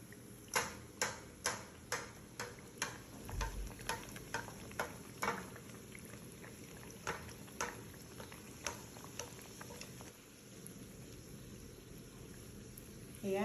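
Toast dipped in egg and breadcrumbs frying in a pan, a soft steady sizzle running throughout, with a regular ticking clatter over the first half and a brief low thump early on.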